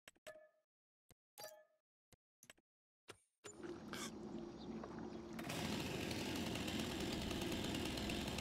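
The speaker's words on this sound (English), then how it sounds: "Let's get our chainsaw out." A chainsaw in the Farming Simulator 25 video game starts after a few short, sharp bursts, then settles into a continuous buzzing engine drone that grows louder partway through and keeps running to the end.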